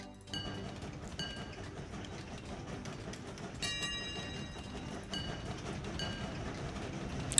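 Steady rolling train sounds from the Train Valley video game, a continuous rumble with repeated bright tonal chimes and clicks recurring every second or so, fairly even in loudness with no talk.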